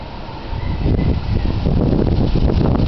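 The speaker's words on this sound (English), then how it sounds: "It's such a windy day today." Strong wind on a very windy day buffets the microphone outdoors, a loud, continuous low rumbling roar with rising gusts that swell after the first half second and stay heavy to the end.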